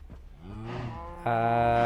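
Video game cows let out drawn-out moos, one rising call followed by a louder, sustained bellow, heard clearly on their own without talk.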